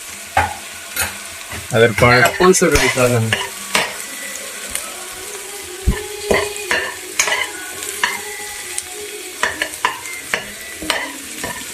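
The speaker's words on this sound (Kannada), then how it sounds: "ಇದು ಸ್ವಲ್ಪ ಬಾಯ್ಲ್ ಥರ ಫ್ರೈ ಆಗಬೇಕು ಗೈಸ್. ಚೆನ್ನಾಗಿ ಫ್ರೈ ಆಗಬೇಕಿದು." Ingredients frying in a pan for Maggi noodles, loud close sizzling with repeated clattering stir and scrape strokes, plus a short burst of tonal clinking early on.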